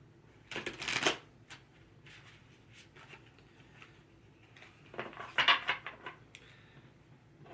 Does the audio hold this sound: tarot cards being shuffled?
yes